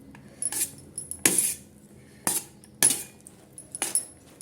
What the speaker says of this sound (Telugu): వేడిగా ఉంది కదండి, అందువల్ల గరిటెతో కలుపుతున్నాను.